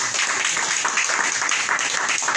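A church congregation claps together during a sermon, a loud, steady burst of many hands filling the room without pause.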